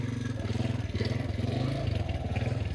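A motorcycle ridden over a rough, badly damaged road in the Nagar area gives a steady, close engine drone with a fast pulsing throb that never lets up.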